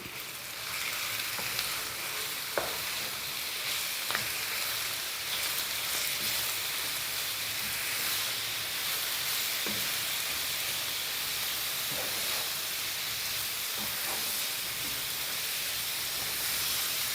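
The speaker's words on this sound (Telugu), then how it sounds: "మనం ఫ్లేమ్ అనేది సిమ్లో పెట్టి వీటిని ఫ్రై చేసుకోవాలండి, లేదంటే ఊరికనే మాడిపోతాయి" Grated beetroot and carrot frying in a pan over a low flame, a dense, even sizzle and hiss running steadily throughout, with a few faint clicks of stirring and no voices.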